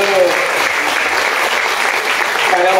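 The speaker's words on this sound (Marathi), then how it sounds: "टाळ्या वाजवूया" A live audience at a music event bursts into loud, sustained applause, with the clapping dense and steady throughout.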